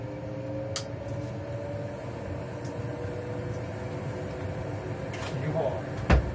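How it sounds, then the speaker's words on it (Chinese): A kitchen range hood fan runs beside a gas stove while tomato, carrot and egg are prepared, making a steady low droning hum with a few light knocks and faint voices. "抽油烟机"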